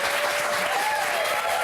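Studio audience at a French reality-TV magazine show applauding, a steady, dense wash of clapping filling the whole moment.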